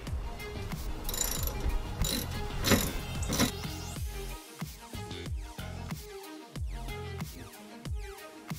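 A ratchet tightens the bolts on a strut tower brace of a 2013 Mustang, with rapid clicking pawl bursts that start dense and loud, then come in short separate runs with brief pauses, close up and alone.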